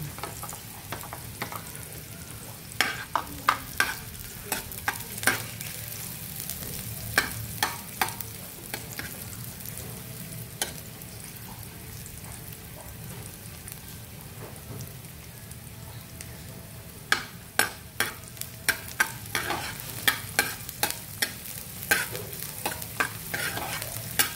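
Garlic (bawang) frying in a pan for chicken kinamatisang manok, a low steady sizzle with clusters of crisp spatula clicks and scrapes as it is stirred, no voices.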